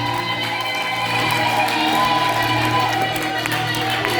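A church congregation cheers and claps steadily throughout a worship service, a dense roar of voices and applause with no clear break.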